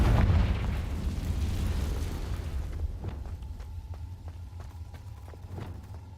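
A Confringo fire spell explodes in the Hogwarts Legacy video game as a heavy, deep boom up front. The rumble fades slowly, leaving quieter game sounds with faint rhythmic taps.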